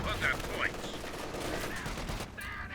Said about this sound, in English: He's got double machine guns kind of covering it.